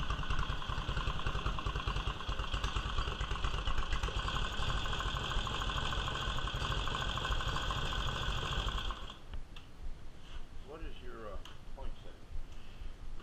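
A 1946 Indian motorcycle engine idles with a steady, rapid mechanical chatter for several seconds during tuning, then cuts out, leaving quieter background noise and a faint voice.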